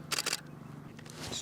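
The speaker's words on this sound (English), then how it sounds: "Listen to that shutter." A DSLR shutter fires twice in quick succession, close and crisp, during outdoor wildlife photography of ducklings, then the scene settles into a quiet background hush.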